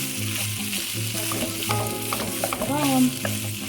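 Chicken breast pieces seasoned with pepper, salt, oregano, turmeric and sweet paprika brown in a little oil in a frying pan, crackling steadily while being stirred, with scraping and clinking over the continuous sizzle.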